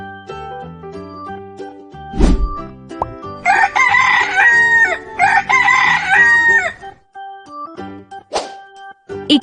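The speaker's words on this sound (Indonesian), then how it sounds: "Ayam." A rooster crows loudly twice in long, bright calls, and short clucks follow near the end, set against a backdrop of cheerful children's music.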